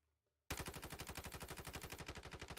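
Automatic gunfire from Call of Duty Warzone Mobile erupts after a moment of near silence, a loud continuous rapid burst of shots lasting about two seconds.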